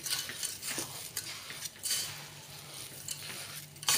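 Wheat porridge in a pot being stirred after jaggery goes in, with a spoon scraping and clinking against the metal in soft, uneven strokes and light patter, fairly close and quiet.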